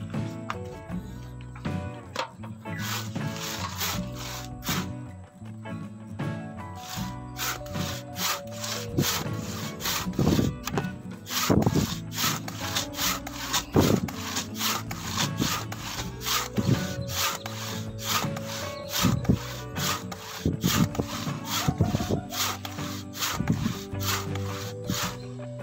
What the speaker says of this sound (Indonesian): Jadi sekarang mari kita gergaji.